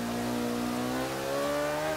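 A McLaren P1 engine revs hard in the racing game Forza Motorsport 5 on the Nordschleife, a loud sustained rising howl with steadily climbing pitch across two seconds.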